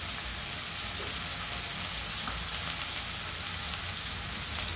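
Onion-garlic masala with black masala sizzles steadily in hot oil while being sautéed for spicy Maharashtrian misal, a dense, continuous frying hiss close by with no voices.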